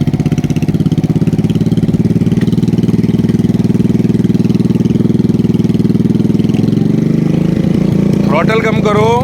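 Motorcycle engine held at steady high throttle during a riding lesson, a loud continuous drone throughout, easing off near the end as a voice speaks.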